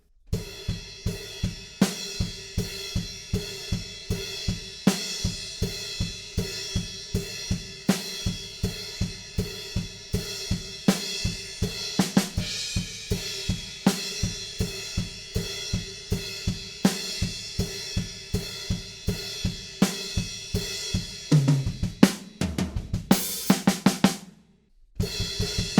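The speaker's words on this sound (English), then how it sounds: "play it up on the crash cymbal with plenty of kick drums" Halftime drum groove played up on the crash cymbal with plenty of kick drum, steady repeating crashes and kicks throughout, loud and close, with a fill near the end of the section; an instrumental part, no talking.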